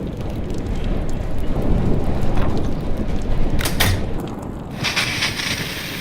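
A thunderstorm rages in Life Is Strange Remastered: a continuous roar of rain and wind, broken by a few sharp cracks of thunder toward the end.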